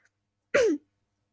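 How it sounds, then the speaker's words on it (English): One short, close throat clearing, a single rough burst with silence before and after. "I'm gonna be clearing my throat a lot"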